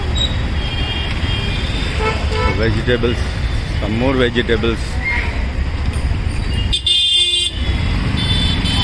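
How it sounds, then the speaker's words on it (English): Car horns toot in busy street traffic beside a fruit and vegetable market, with steady road noise underneath and a person talking over them. "I don't like honking"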